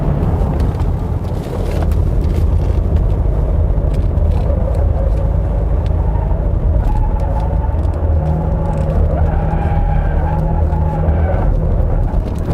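A Mercedes GLE 300 d diesel SUV accelerates, its engine drone and road rumble steady and loud from inside the cabin, with pitch rising slightly toward the end.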